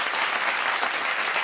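Steady crowd applause, dense and continuous clapping at a close, even level throughout, with no voices standing out.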